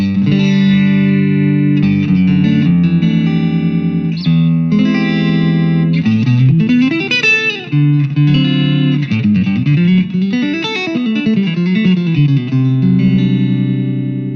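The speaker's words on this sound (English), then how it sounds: "Very Fenderish clean sound, a little obviously different to a standard tube amp" Electric guitar through a Fender Mustang LT25 amp on its Fender Clean preset, strummed chords and single-note runs played alone, steady and fairly loud with a bright, slightly chorused shimmer.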